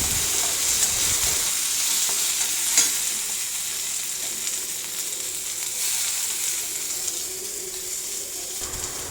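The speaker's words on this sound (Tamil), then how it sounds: "வெங்காயம் நன்றாக வதங்கியவுடன் தேங்காய் துருவல் சேர்த்து வதக்கவும்." Steady sizzling and frying of onion and grated coconut in a pan with occasional stirring scrapes, continuous and fairly close, no voices.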